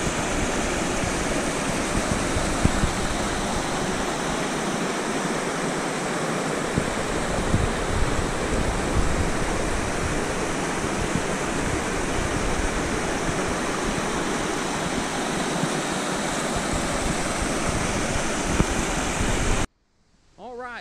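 Spruce Flats Falls pours with a loud, steady, broadband rush of falling water that stays constant and close, then stops abruptly at the very end.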